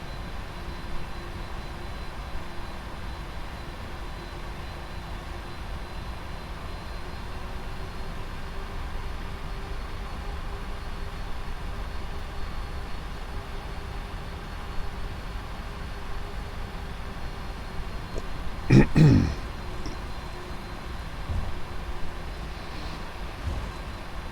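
A heavy Lufthansa airliner taxiing at Frankfurt in the Prepar3D flight simulator gives off a steady, moderate engine hum with a faint whine, broken near the end by a brief mechanical clunk.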